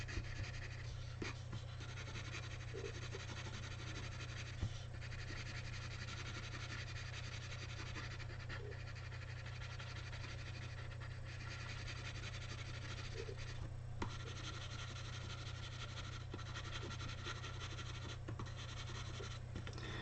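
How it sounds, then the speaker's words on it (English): A pencil scratches and scribbles across paper while a graphic novel page is drawn, soft continuous strokes close to the ear under a steady low hum, with no talking. "I'm trying to kind of capture that with my pencil strokes."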